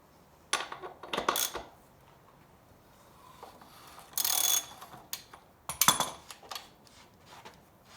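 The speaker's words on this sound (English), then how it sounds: "Now I'm going to take my socket wrench and remove the axle nut." A socket wrench loosens a rear wheel axle nut with short bursts of close metallic ratcheting clicks separated by quiet pauses.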